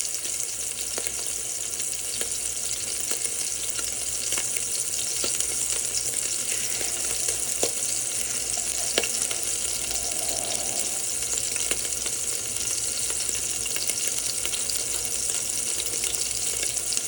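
Meatballs of raw beef searing in a pan, giving a steady, even sizzle that runs unbroken and fairly loud throughout, with no talking.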